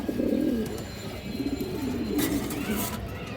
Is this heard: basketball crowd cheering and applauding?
no